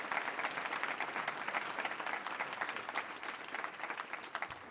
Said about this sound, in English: How about one more last round of applause for our presenters, Gary Salamido and Harry Davis.